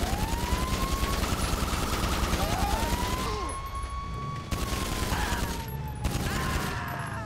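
Pistol gunfire in the video game Grand Theft Auto Online, loud, dense shots in a steady rapid stream over a sustained game soundscape with a siren-like wailing tone, a brief drop in the middle before firing resumes.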